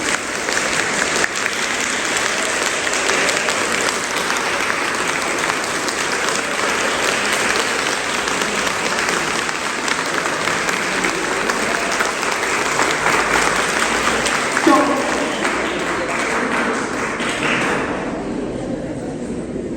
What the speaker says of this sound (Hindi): आप बहुत तेज बट फास्ट तालियां बजाना